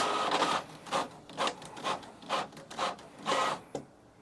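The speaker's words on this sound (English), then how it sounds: "So now it should automatically continue to print." An Epson EcoTank ET-15000 inkjet printer prints, its print head carriage sweeping back and forth in seven regular whirring passes about half a second apart, close and clear, ending with a short click.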